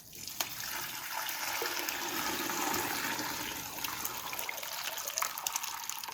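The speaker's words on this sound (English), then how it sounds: "so I'm gonna transfer the soup into the pot." Soup with coconut liquid poured from one vessel into a pot for Vietnamese fish cake noodle soup, a steady continuous gushing and splashing of liquid lasting several seconds, close and fairly loud, with no talking.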